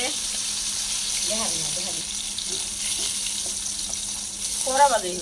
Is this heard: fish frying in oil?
yes